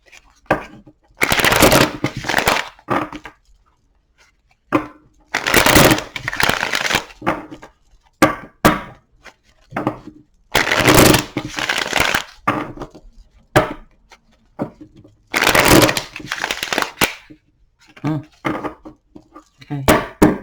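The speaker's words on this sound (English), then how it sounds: "I'm going to shuffle 6 times and just lay them out" Tarot cards are shuffled up close in repeated bursts of riffling and slapping, about six rounds separated by short pauses, with softer card handling in between and no voices.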